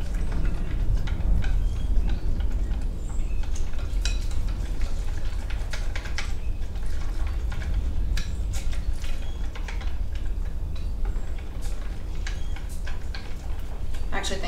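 Homemade ranch dressing being whisked in a bowl, a steady run of quick scraping and clicking strokes that carries on throughout, close by and fairly loud against a dense background.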